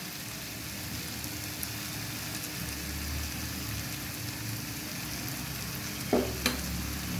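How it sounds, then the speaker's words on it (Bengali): A Burmese-style olive pickle with sugar and ground spices is stirred in a pan on the stove, giving a steady soft sizzling scrape, with a couple of sharper knocks of the spoon against the pan near the end. "ভালো করে নেড়ে মিক্সড করে নেব"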